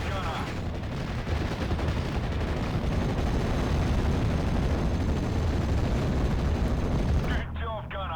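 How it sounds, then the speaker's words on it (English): Gunfire from an M5 Honey Stuart light tank in the Normandy 1944 wargame Steel Division, a dense, continuous rumble of shots and blasts that holds loud for about seven seconds before a voice cuts in near the end. "Got a Honey light tank here, Honey Stewart opening up."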